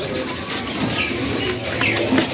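Caged birds for sale at a bird kiosk cooing and chirping softly, several calls scattered over a steady background murmur.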